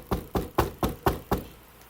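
Six sharp knocks on wood sound close and evenly spaced, each a crisp hollow rap about a quarter second apart, with a brief silence afterward.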